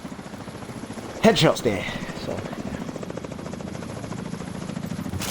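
A helicopter in Tom Clancy's The Division 2 gives off a steady, rhythmic rotor thrum that carries through the whole stretch. A player's voice talks briefly over it, and a short burst of game noise comes early on.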